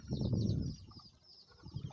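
Chickens being fed make a few soft, close clucks and calls, a brief louder burst at the start and then quieter sparse sounds.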